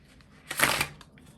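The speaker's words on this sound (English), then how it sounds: "This is the second pile where I shuffle for relationships." Tarot cards being shuffled for a pick-a-card reading, a soft papery riffle that swells for about half a second and then fades, fairly faint and close, with a few light taps around it.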